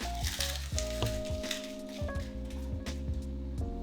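Crispy chicharrones crumbled into a pan of sizzling salsa verde, giving a steady close sizzle with small crackles and soft stirring knocks throughout.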